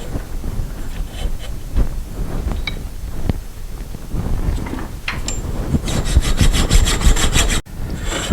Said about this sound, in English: But we're going to file it just a little bit anyway.